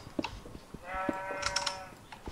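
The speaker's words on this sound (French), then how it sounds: "Et on ne tue pas les moutons parce que j'aimerais bien les voir se reproduire." A sheep in the video game Minecraft gives one clear, drawn-out bleat in the middle, surrounded by scattered clicks and short game sounds.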